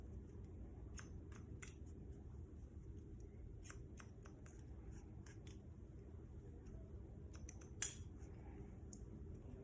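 Scissors snip through a man's hair during a home haircut, making short, faint, quiet clicks in scattered bursts with a sharper snip near the end, close against a low background hum.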